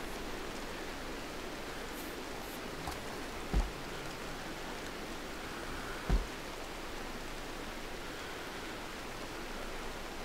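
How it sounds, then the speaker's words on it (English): Steady foggy rain in the video game RimWorld, a continuous hiss of rainfall with two brief low thumps partway through, no voices. "Foggy rain."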